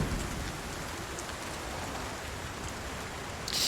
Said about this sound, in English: it's so difficult to go out in the rain like this